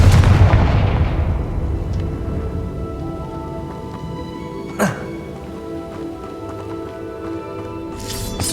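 A Confringo spell explodes in Hogwarts Legacy with one loud, booming blast at the start that rolls off into a long fading rumble, followed by a sharp smaller crack midway and a faint burst near the end.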